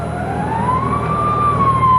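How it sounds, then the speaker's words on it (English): A fire engine siren in a 1970s radio drama sound effect, one loud, close wail rising and sweeping steadily over a low engine rumble. "Fire engine?"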